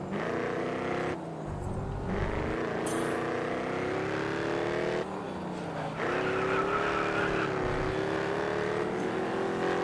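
A race car drifts in the racing game GRID Autosport, its engine droning loudly and steadily while the tires slide with a sustained skidding hiss. Pitch shifts rise and fall as it rounds the corner.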